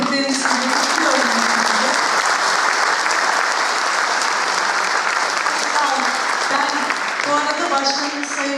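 A theatre audience at the Mersin premiere of the play 'OKB OKB' breaks into loud, sustained applause that carries on steadily to the end, with a voice speaking over the clapping.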